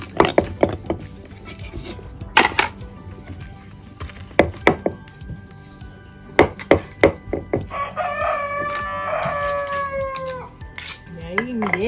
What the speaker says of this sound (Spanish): si oyen cantar ese gallo